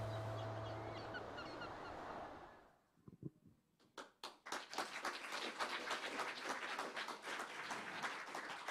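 An audience at a startup accelerator showcase breaks into clapping after a brief lull, starting as a few scattered claps and swelling into steady, dense applause that carries on to the end.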